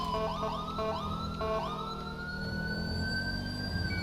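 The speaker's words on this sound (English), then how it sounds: "let's go ahead and cut sirens" A police car siren in the video game LSPDFR wails in rising and falling sweeps, then settles into a steady tone over a low engine rumble, loud and close.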